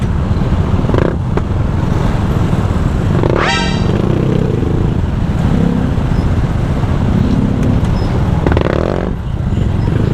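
A motorcycle engine roars loudly and continuously nearby, with a brief horn toot partway through and traffic noise around it.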